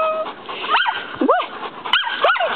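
A dog gives four short, high yips or whining barks in quick succession, close by and fairly loud, with no talk over them.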